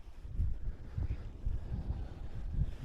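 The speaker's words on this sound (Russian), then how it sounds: "Ветрище что-то поднялся." Strong gusty wind buffets the microphone outdoors by a river on a sunny spring fishing trip, producing steady low rumbling roars and pulses with no speech.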